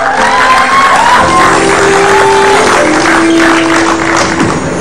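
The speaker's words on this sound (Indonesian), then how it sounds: "Tepuk tangan buat Aura Kasih dong." Studio audience applauding and cheering for Aura Kasih on an Indonesian TV show, a dense, steady burst of clapping and crowd noise lasting several seconds with faint tones running beneath.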